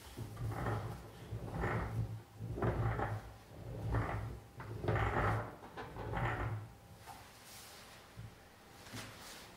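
A TRUSCO resin hand trolley with quiet-type casters rolls along the floor, giving a soft rumbling roll in repeated low pulses, fairly faint and close, with no talking.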